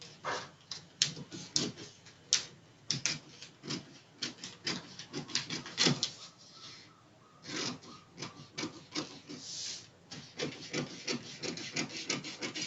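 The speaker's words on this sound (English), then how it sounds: "So now I'll cut this part first before cutting the darts. So just follow your markings." Scissors cutting a blouse pattern along marked lines, a close, steady series of rasping snips and paper-rubbing scrapes in irregular bursts, with no talking.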